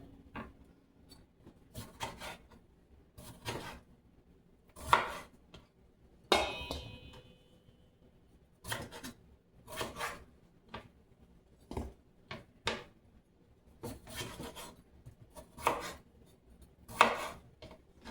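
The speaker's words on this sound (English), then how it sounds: "I'm going to cut them kind of thick for my steak fries." Knife chopping through potatoes, skin on, into thick steak fries: a series of sharp, dry cuts and board taps in irregular clusters, close and fairly quiet, with no talking.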